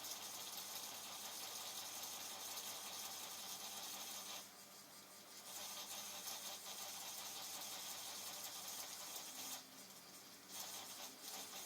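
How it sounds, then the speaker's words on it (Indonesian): An electric polishing machine buffs a car headlight lens during restoration, a steady mid-pitched motor whir running throughout with two brief dips in load. "Anda dapat memulai penggilingan dan pemolesan akhir dengan mesin pemoles."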